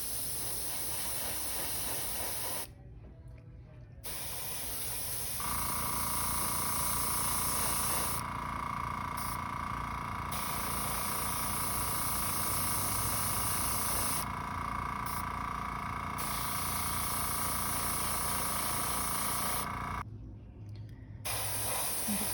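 Aerosol spray paint hisses in long continuous bursts onto a Tzeentch-inspired Archaon the Everchosen tabletop miniature, sprayed from a slightly tilted-up angle, with brief pauses between passes; a steady, close, loud spray with no talking.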